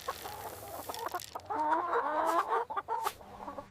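Laying hens cluck and warble close by at a feed trough, a busy run of overlapping clucks that swells in the middle before trailing off.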